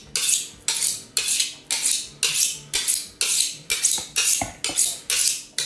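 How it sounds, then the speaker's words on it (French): A long fish knife is drawn along a steel honing rod in about a dozen bright, scraping metallic strokes, each rising and then cut short, repeating at an even, brisk pace close up. "Donc moi je vais un peu l'affûter"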